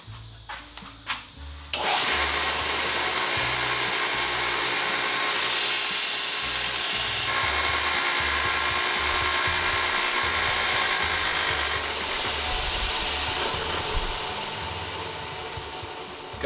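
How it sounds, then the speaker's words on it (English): A belt sander grinds steadily across pallet board wood, a loud continuous abrasive roar close by that starts after a few knocks and runs unbroken for the rest, with no talking. "a sander, I can work away from the grain and work away from the edges, and it'll take a lot smaller bite"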